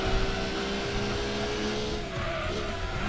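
Nissan R390 race car in Gran Turismo 2 at night on Special Stage Route 5, its engine holding a steady loud drone at high speed with a slight pitch shift partway through, and no talking.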